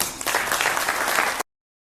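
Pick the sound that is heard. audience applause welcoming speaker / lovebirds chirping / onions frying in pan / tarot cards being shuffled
audience applause welcoming speaker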